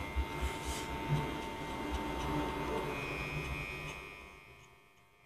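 Steady electric buzz and hum of a hair trimmer running through a brush fade haircut, close and continuous, with a few light taps early on and a gradual fade toward the end.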